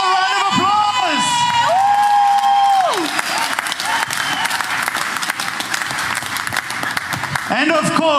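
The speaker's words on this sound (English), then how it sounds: "Let's give him another round of applause." At a party rally unveiling a mayoral candidate, a large crowd breaks into sustained loud applause and cheering with whoops and shouts, while singing or chanting voices rise over the clapping at the start and end.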